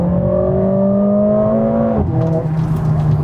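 Mercedes-AMG A45 engine pulling hard under acceleration, a loud, steady rising drone that climbs in pitch, drops briefly at a gear change, then builds again.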